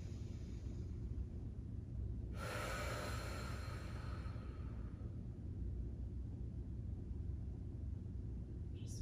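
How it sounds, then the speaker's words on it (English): A single deep inhale and exhale during a floor mobility exercise, soft and close, rising briefly over a steady low background hum with no talking. "Let's just take a nice big breath here."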